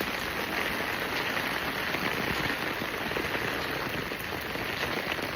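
Heavy rain pours during Cyclone Alfred in Brisbane, a dense, continuous hiss of drops drumming on surfaces, steady and close throughout with no voices.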